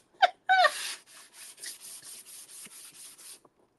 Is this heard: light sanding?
yes